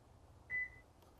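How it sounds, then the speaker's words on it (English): A Subaru key fob emits a single short, clear electronic beep as a button is pressed while a PIN code is keyed in, close and isolated against a quiet background. "You'll notice each time I press this, that's the 1, it beeps."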